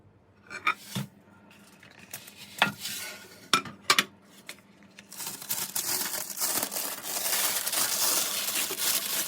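Baked puff-pastry triangle manti being moved onto a serving plate, with a few sharp, separate utensil clinks and taps, then a continuous close scraping and crinkling, no talk.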